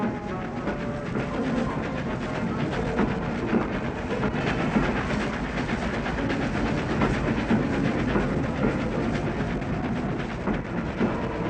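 Steam locomotive 4472 Flying Scotsman runs on a 1967 enthusiasts' excursion, a steady loud rumble of the moving train with rhythmic wheel clatter throughout, no voices.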